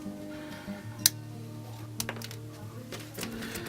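Sprue cutters snip through plastic model railroad ties for a train yard, one sharp, bright click near the start followed by a couple of softer ticks, close by with no talking.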